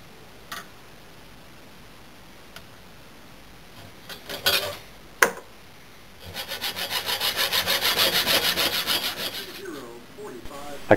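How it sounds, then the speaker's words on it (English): Brass rods for a bush knife handle are sawn by hand: a few scattered taps and scrapes, then a run of quick, even back-and-forth saw strokes, close and moderately loud. "I cut a small assortment of brass rods."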